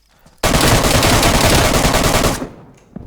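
A rapid burst of automatic gunfire in a video game shooter fires loud and close, with no pause for about two seconds before it stops abruptly.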